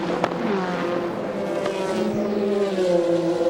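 Saleen race car sweeping past on a track during the 2001 Sebring endurance race, a steady, loud engine drone with shifting pitch that swells and fades as it goes by.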